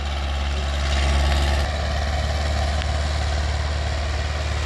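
A 1972 International 276 tractor, made in England, idles with a steady, deep, loud rumble that runs unbroken throughout, close to the listener and with no voices.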